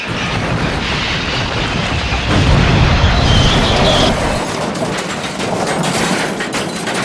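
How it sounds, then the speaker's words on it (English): A gas leak explosion inside a villa, a loud, sustained roaring blast that swells into a heavy rumble and then gives way to crackling debris and a lingering, fading roar. "The explosion was caused by a gas leak inside the villa"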